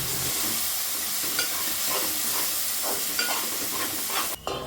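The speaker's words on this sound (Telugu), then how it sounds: "ఇందులోనే కారం, ఉప్పు, ధనియాల పొడి, గరం మసాలా వేసుకొని కలుపుకోవాలి." Blended tomatoes with chilli powder, salt, coriander powder and garam masala frying in a pan for egg curry, a continuous sizzle broken by repeated scraping stirs, close up with no voices, ending in a brief clatter.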